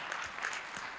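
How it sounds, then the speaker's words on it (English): Brief, fairly faint applause from a conference audience, steady clapping lasting about a second. "Big round of applause, guys."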